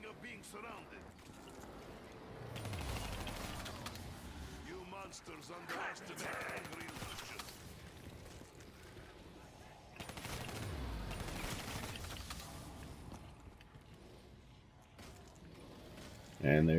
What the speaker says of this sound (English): I'm just going to keep shooting right now.